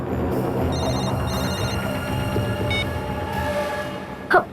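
A telephone rings indoors in a crime drama scene: two clear electronic ring bursts near the start, then a quieter background hum and a brief knock at the end, with no speech.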